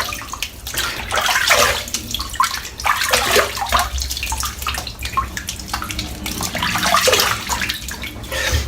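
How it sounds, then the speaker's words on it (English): Cold water from a tap splashed repeatedly onto a freshly shaved head, bursts of close, loud splashing over steady running water. "Good splash of cold water to finish off."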